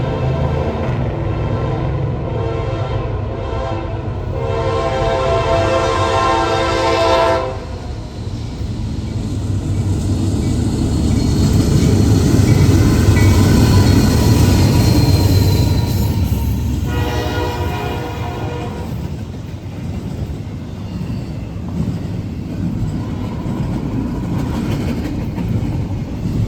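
A Norfolk Southern freight train with UP 6706 trailing passes through Gaffney, South Carolina, at night. Its horn blasts loudly twice over a continuous rolling rumble of wheels and rail cars.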